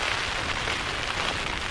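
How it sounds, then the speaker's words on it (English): Heavy rain falls outdoors in a dense, even, loud wash of patter with no pauses and no voices. "it's raining quite hard actually"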